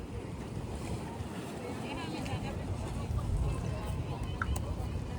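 Sea waves wash onto the shore at Dwarka, a soft, continuous surging with gusts of wind buffeting the microphone, fairly faint and steady throughout.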